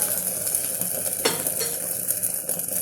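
A dosa cooking in oil or ghee on a pan sizzles loudly and continuously, with one sharp spatula scrape or flip in the middle and lighter clatter afterward.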